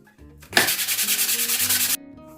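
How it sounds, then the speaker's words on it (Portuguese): Steady rhythmic scraping of coarse 80-grit sandpaper rubbing back and forth over a surface, close and loud, for about a second and a half before stopping. "Estou lixando aqui com uma lixa 80."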